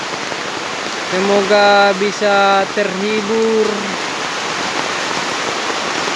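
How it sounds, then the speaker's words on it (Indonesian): Heavy rain falls steadily behind a house, a dense even hiss throughout, while a voice speaks briefly over it partway through. "hujan yang sedang turun dengan deras sekarang ini"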